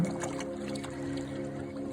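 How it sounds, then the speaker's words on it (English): Canoe paddle strokes on a still lake in the Boundary Waters, soft close splashes and drips over a steady low droning hum, gentle and unhurried. "The first paddle stroke slips into the lake with a soft splash, and then another."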